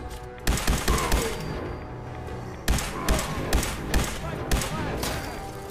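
Rapid bursts of gunfire in the video game Fallout 4, loud clustered volleys in two bouts separated by a brief lull, with a voice talking over the shots.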